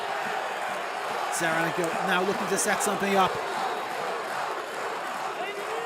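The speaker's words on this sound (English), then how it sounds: "The crowd baying for a try here at the Stade Mayol." A rugby crowd at Stade Mayol in Toulon bays and roars during a Top 14 match against Lyon, a steady wash of crowd noise under a commentator's voice, with a few louder shouts and whistles rising in the middle.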